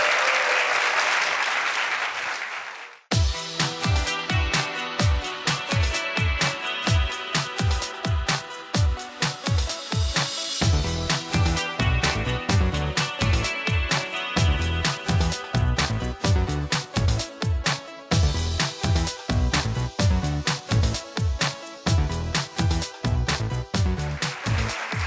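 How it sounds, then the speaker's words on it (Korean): Lecture-event audience welcomes animation company CEO Jeong Hee-du with a brief burst of dense applause, which gives way to loud, steadily beating music that carries on to the end. "박수 주세요."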